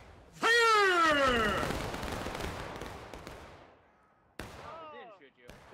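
A musket volley from the rear rank in the War of Rights game, a single loud crashing blast that rolls off into a long echo, then a second sharper report with shouted commands around it.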